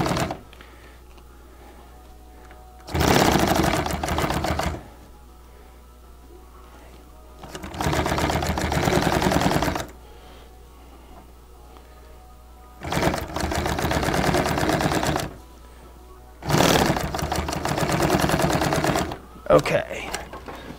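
A sewing machine stitches acrylic bag flaps in five separate bursts of rapid, close mechanical chatter, each lasting about two seconds, with quiet pauses between them.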